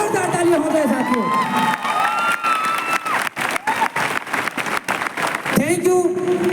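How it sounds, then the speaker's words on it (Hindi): Loud audience applause and cheering at a Safe Shop gathering, with shouts and whoops over rapid clapping; the crowd swells, dips briefly, then rises again toward the end. "जोरदार तालियां हो जाए साथियों।"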